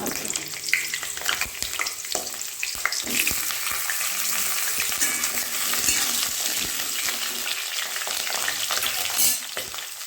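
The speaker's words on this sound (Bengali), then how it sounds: "আলুগুলো একটু ভেজে নেব এবার পেঁপেগুলো ভেজে নেব" Potatoes and papaya fry in mustard oil with a bright, continuous sizzle and irregular stirring scrapes and knocks from a spoon against the pan, heard up close.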